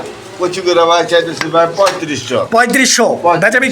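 Fancy pigeons coo in low, throaty bursts that overlap one another, close by and fairly loud, with clattering noises mixed in.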